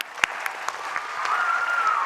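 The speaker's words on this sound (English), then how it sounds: "can we all clap our hands?" Hands clapping together as teamwork during an interactive children's reading, a brief scattered start swelling into steady, moderately loud group applause.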